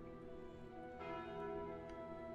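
Bell chime from the Calling Bell relic in the video game Slay the Spire, a steady ringing tone with sustained harmonics and a brief bright strike partway through, heard alone with no talk.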